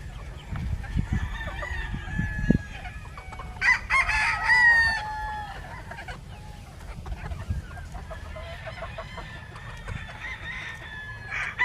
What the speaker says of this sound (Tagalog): So, tingnan nyo guys, ang mga manok.